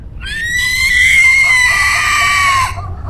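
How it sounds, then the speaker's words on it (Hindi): A horror-story sound effect of a corpse screaming: one loud, shrill, sustained wail lasting about two and a half seconds, slightly wavering then dropping off abruptly, close and alone with a faint low rumble beneath. "एकाएक वो लाश भयानक से चीख उठी"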